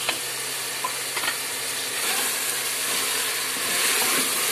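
Whole black spices, coriander seeds and cumin are fried in browned yogurt for beef shorba, giving a close, continuous sizzle and hiss with a few soft stirring knocks and no talking.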